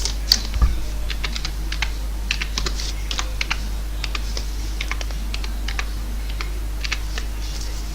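Typing on a computer keyboard while naming a new playlist: steady runs of crisp close key clicks, grouped into bursts with short pauses over a faint low hum, no voice.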